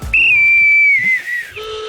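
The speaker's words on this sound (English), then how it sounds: "Just not working, this whistle anymore." A single sharp whistle blast, high and steady for about a second before wavering and fading into a weaker, breathy tone, loud and close, with no talking.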